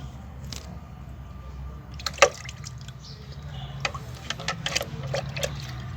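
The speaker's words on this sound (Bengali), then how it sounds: "এই 1 চামচ আপনি হ্যান্ড ওয়াশ দেবেন।" Liquid hand wash dripping and trickling into a spoon, with soft wet drips and one sharper splash-like tick, fairly close over a low background hum.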